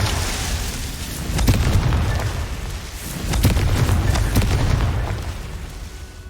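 Confringo blasting spell explosions in Hogwarts Legacy: three or four booming blasts burst out one after another, each with a deep rolling rumble that fades before the next.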